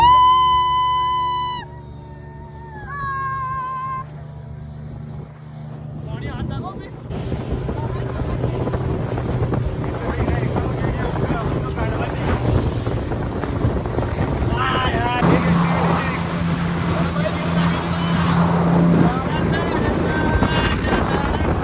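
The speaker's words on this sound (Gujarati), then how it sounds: "હવે અમે એમને સફર કરાવીએ સ્પીડ બોટનું" Speedboat ride on the sea between Dwarka and Bet Dwarka, a steady roar of engine, rushing water and wind buffeting building up after a quieter start with music, and it continues loudly to the end.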